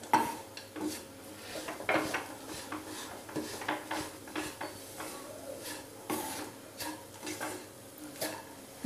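Jaggery and grated coconut cooking in a pan, with repeated scraping and stirring of a spoon against metal and a soft, steady background hum, close and moderately loud, no talk.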